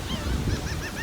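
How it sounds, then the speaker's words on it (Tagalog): Goose-like birds honk repeatedly in a quick series of calls at a beach, loud and nearby with no talking. "pakita ko sa inyo yung mga ibon. Nandyan sila."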